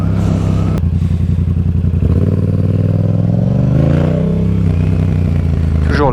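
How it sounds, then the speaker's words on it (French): A 2019 Yamaha MT-07 twin-cylinder motorcycle with its exhaust baffle removed idles and revs nearby, its loud throbbing exhaust note rising and falling, with a sharp click near the start. "des gens qui font du bruit avec leur pot d'échappement de bicylindre de MT-07 déchicané"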